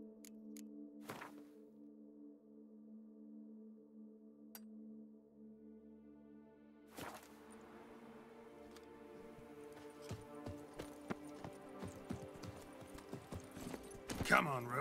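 Hooves of Roach, a horse in The Witcher 3, clop along a path, starting sparse and building into a steady, dense galloping rhythm beneath a low sustained game music drone, with a few sharp accent hits along the way.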